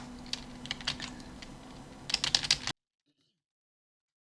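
Quick clusters of soft keystrokes on a computer keyboard entering a search, close and fairly quiet, two short bursts of tapping before the sound cuts to silence.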